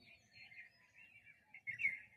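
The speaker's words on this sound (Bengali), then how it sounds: "এখন চুপচাপ শুধু পাখিরাই ডাকছে" Small birds chirp and call on a quiet morning near a railway bridge construction site over a lake. Thin, faint tweets repeat at a distance, with a brief louder burst of chirping near the end.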